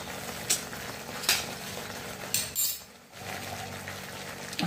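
Peanuts sautéing in oil in a pan for a drumstick curry, giving a steady close sizzle with a few louder stirring scrapes and clinks throughout and a brief dip in the middle.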